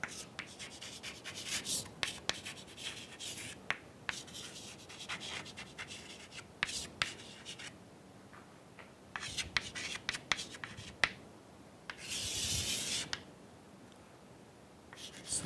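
Pen or chalk writing out the pumping lemma for context-free languages in a lecture setting: close, irregular scratching strokes with clicks and pauses, a longer steady rub near the end, no talk.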